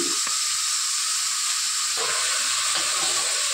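Ginger paste and mutton fry hard in a hot pan for a curry, a loud continuous sizzle close by with a few scrapes of stirring breaking through, no voices.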